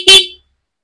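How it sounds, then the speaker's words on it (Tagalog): A single short, loud honk from a car horn, bright and close, cutting off abruptly and followed by silence. "Maglalagay tayo ng horn with passing light."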